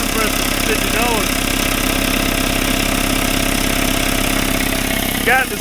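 A Craftsman 5 HP, 20-gallon Sears air compressor runs with a steady, pulsing motor drone close by, while someone talks over it and a brief squeak cuts in near the end.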